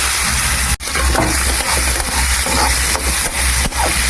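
Onions sizzle steadily in hot oil left over from frying hilsa fish, a loud close crackling hiss with occasional stirring scrapes, no talking.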